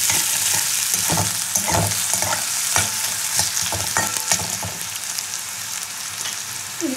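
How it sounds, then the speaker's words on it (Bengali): Potatoes fry in a hot pan with a steady, fairly loud sizzle, broken by repeated scraping and stirring of a utensil against the pan. "আলুটাকে আগে খুব ভালো করে ভেজে নেবো।"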